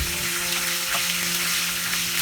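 Pointed gourd (parwal) pieces fry in a pan with turmeric, giving a steady, close hiss of sizzling oil that holds even throughout.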